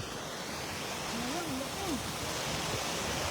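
A small, shallow river flows with a steady broadband wash of moving water and a faint tonal whistle partway through.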